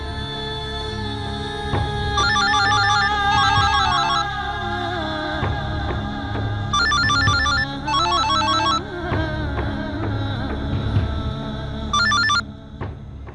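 A phone ringtone goes unanswered, playing repeated bright electronic note patterns in several bursts over a steady background music bed, close and clear, with no voices.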